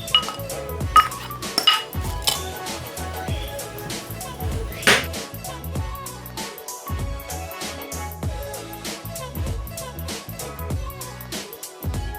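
Guacamole ingredients mixed in a bowl, with a dense run of close, rhythmic clinks and taps of a utensil against the dish, some louder knocks early on, and no speech.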